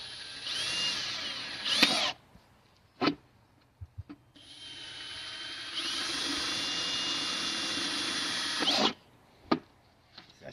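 A power drill bores holes in plastic plant pots in bursts: a long whine, a pause, another sustained high-pitched run, with short sharp zips and clicks between.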